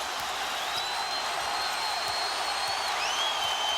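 Basketball arena crowd at an NBA Finals game between the San Antonio Spurs and Cleveland Cavaliers, a steady loud roar of cheering and noise that holds level throughout, with whistle-like tones drifting above it.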